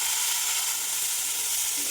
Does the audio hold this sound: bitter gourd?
yes